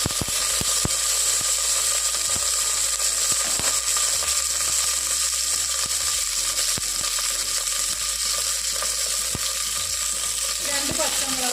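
Curry leaves crackle and sizzle loudly in hot oil with mustard seeds, a steady frying hiss with sharp pops and spatters throughout, close and alone, while squid roast is being made.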